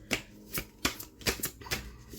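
Tarot cards shuffled by hand in a quiet room, about seven sharp riffling bursts in an irregular rhythm, close and fairly soft, one likely marking a card dropping from the deck.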